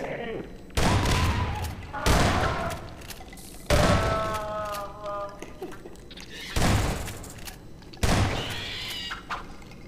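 Grenades go off in Half-Life 2 as a series of heavy booming thuds, about five blasts spread across the span, loud and close, with game sounds in between.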